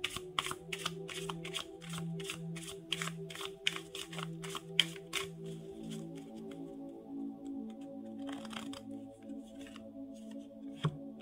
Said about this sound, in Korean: 힌트 카드도 한번 3장 뽑아 볼게요